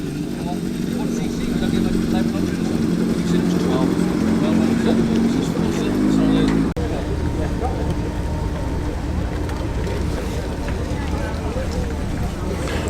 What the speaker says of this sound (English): Off goes the burbly Bentley.